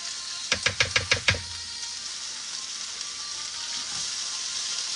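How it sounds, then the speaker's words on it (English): Peppers and onions sizzle in a pan for ground turkey fajitas, opening with six quick rhythmic knocks of a utensil against the pan before a steady crackling hiss continues alone. "Y'all hear that sizzle?"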